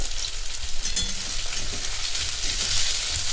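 Chopped onions, three medium ones, frying in a pan over medium gas heat while being stirred, a close, loud continuous sizzle with scraping movement, no voices.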